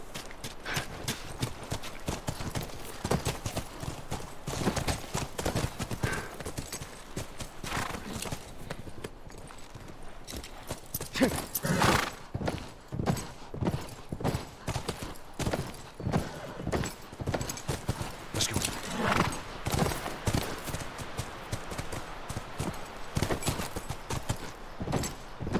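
Horse hooves clip-clop steadily in The Last of Us, close and clear, with a rhythmic stream of evenly spaced hoofbeats and a faint ambient backdrop.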